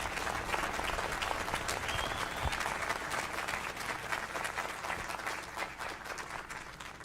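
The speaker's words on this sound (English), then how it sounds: "Let's have another round of applause for the Festival Pipes and Drums Band." Sustained concert audience applause for a pipes and drums band at a military school band and chorus festival, dense steady clapping throughout that fades slightly toward the end.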